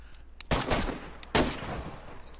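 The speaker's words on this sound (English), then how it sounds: "suppress your gunshots, damn it!" Two bursts of video-game gunfire in a zombie survival game, each a sharp loud volley of shots about a second apart, with broadband crackle and a lingering tail between them.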